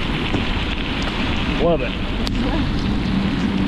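Steady hiss of heavy rain during a strong thunderstorm on an outdoor bike ride, a continuous wash of rain noise with wind buffeting, and a brief spoken voice over it.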